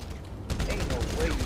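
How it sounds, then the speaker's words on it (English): Silenced AK rifle firing in the video game GTA V Online, a rapid burst of muffled shots repeating for over a second, fairly loud and close. "Using a silencer AK, you think you're finna catch your boy?"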